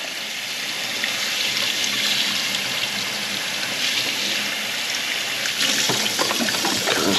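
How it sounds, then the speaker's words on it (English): Water rushing steadily through the inlet and outlet of an aquarium canister filter while being rinsed out, a loud, close, continuous hiss and splash that holds for several seconds. "I just run water through the inlet and the outlet."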